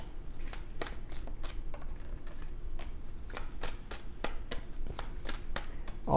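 Oracle cards are shuffled close up in a steady series of crisp riffles and flicks, repeating about every half second over a low background hum, with no talking.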